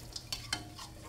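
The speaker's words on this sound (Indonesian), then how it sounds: "Nah di bagian ini diaduk-aduk sebentar, semuanya terlumuri" Anchovies in chili sauce are stirred in a frying pan, giving a few quick, faint scraping strokes over a soft steady sizzle with no voices.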